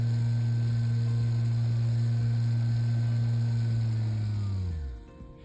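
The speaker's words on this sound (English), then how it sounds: "let's go back down to 0 to turn off the motor" A small electric motor controlled through a custom function block hums steadily and close, then winds down over the last second as its pitch drops and it spins to a stop, leaving near silence.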